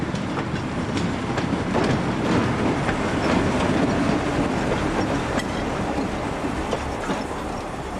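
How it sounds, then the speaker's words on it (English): A narrow-gauge diesel train rolls past close by, departing on a passenger service in Latvia, wheels clattering rhythmically over rail joints with a steady rumbling drone. "TU 273 departs with the 1325 service to Aluksne"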